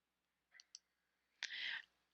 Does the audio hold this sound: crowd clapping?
no